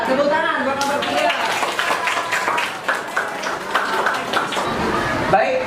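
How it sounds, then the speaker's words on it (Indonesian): Fifth-grade students clap for a group that has just finished presenting in an Islamic religious education class. The clapping is loose and uneven, with children chattering over it and a brief pause near the end. "Ya, tepuk tangan buat kelompok 3."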